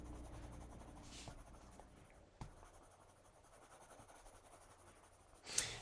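A brown colored pencil rubbing across paper to fill in grass on a stamped scene, a soft, steady scratchy shading stroke that runs continuously and quietly with no one talking.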